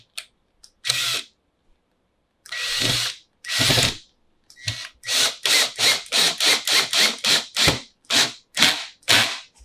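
A power driver drives long screws into a metal vivarium rack: several separate bursts of whirring and ratcheting come first, then a fast regular run of short grinding pulses, loud and close with no talking.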